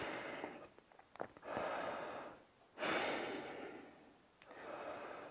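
A person breathing slowly and deeply while seated in a knees-hugging floor stretch during a home workout, with long audible inhales and exhales alternating with brief pauses, close and fairly soft.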